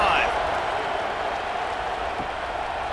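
A stadium crowd cheers in College Football 26 at a Georgia vs Auburn game, a broad, steady roar carrying beneath an announcer's play-by-play commentary.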